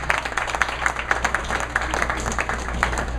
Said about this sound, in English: Well-deserved round of applause for the crowd for a wonderful, clean 223.